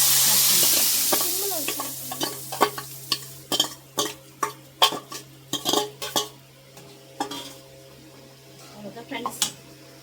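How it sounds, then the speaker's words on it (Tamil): Greens are stirred into hot oil with mustard seeds; a sizzle fades early, then a spoon scrapes and clinks against the pan in uneven strokes, with a voice talking over it. "இப்போ எண்ணெய் ஊற்றி கடுகு போட்டுட்டேன்."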